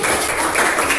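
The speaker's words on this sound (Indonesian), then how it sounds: "Beri tepuk tangan dulu untuk kelompok 1." A classroom of students clapping for a presenting group during a teacher-training practice lesson; dense, steady applause, close and loud, lasting about a second.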